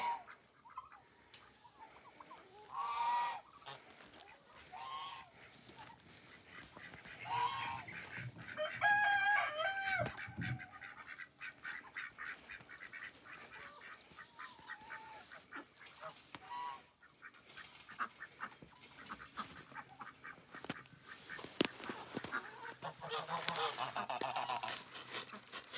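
Turkeys and peacocks kept together call out at a distance: scattered gobbles and sharp, honking cries over a faint steady hiss, with occasional rustling.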